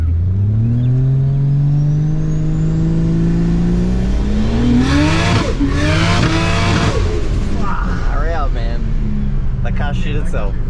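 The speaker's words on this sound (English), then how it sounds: "Wow, this car has never felt this fast." A tuned Ford FG Falcon making around 1000 horsepower accelerates hard from inside the cabin, its engine note climbing loud and steady through the gears with brief shift breaks, while voices call out over the roar.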